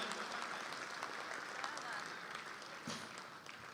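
Audience applause at a kavi sammelan and mushaira poetry recital in Dubai, a steady wash of many hands clapping that holds evenly throughout without breaks.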